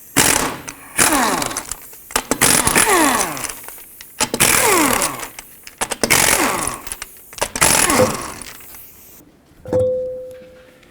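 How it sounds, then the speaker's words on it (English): Rapid bursts of a power tool, likely an impact wrench, spinning off the five wheel lug nuts of a 2007-2009 Saturn Aura with a 19mm socket; loud repeated rattling runs in several stretches, ending with a brief steady whine. "I'm just going to use my 19mm socket, remove all 5 of my lug nuts, and then take the wheel off"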